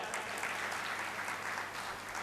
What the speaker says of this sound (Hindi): दोबारा जोरदार तालियों से स्वागत।